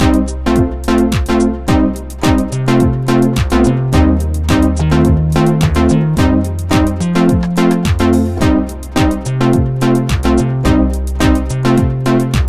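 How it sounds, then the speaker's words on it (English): Layered synth tones over a bass line from a KORG i3 music workstation, with only the style's drum track kept, playing a steady rhythmic groove with regular beats, loud and continuous with no talking. "Here's a nice thing I made by layering together four different sounds with a bass in the bottom"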